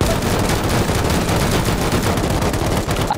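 Loud, dense automatic gunfire in the survival game Rust, with a continuous rapid rattle of many shots blurring together at close range and no voice.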